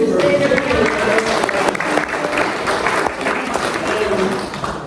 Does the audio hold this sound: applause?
yes